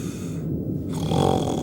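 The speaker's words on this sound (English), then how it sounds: "He opens one eye briefly, then closes it again and pretends to snore." A man feigns snoring in a Red Dwarf TV episode, a single drawn-out nasal snore rumbling close and loud, followed by a raspy breathy snort.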